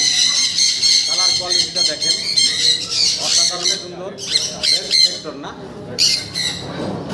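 A pineapple conure at a fancy-bird farm lets out loud, harsh squawks in close, repeated bursts, shrill and piercing, with a few shorter chirps between.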